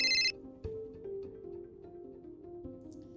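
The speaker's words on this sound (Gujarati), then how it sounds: "ત્યારે જ એક અચાનક ફોન કોલ આવ્યો" A telephone ringtone sounds at home at night, a short bright ringing burst at the start that stops abruptly, followed by quiet household background noise with a few soft knocks.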